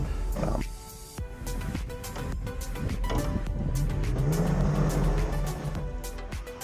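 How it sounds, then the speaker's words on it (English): An off-road Toyota or Jeep climbs a snowy trail and slides backward on ice, its engine droning and rising in pitch as it revs against lost traction, steady and fairly loud throughout with no talk. "I do the climb and then all of a sudden hit a huge patch of ice and immediately start to slide backward"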